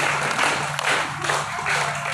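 A group of young Quran-school children clap in unison during a counting clap game, a few rhythmic clap bursts over a soft room murmur.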